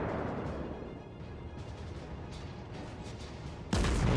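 Warship guns in the World of Warships video game, from a cruiser Nürnberg and a battleship New York: a low, rumbling battle din, then one sudden loud broadside blast near the end.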